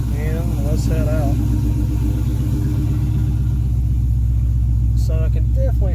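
Dodge Charger with long-tube headers and catless mid-pipes rumbling steadily while driving, a deep, loud, continuous exhaust drone heard from inside the car, with voices talking over it.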